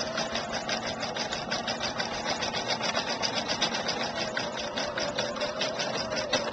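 An embroidery sewing machine stitches steadily at close range, its needle hammering in a fast, even rhythm under a constant motor hum that runs without a break.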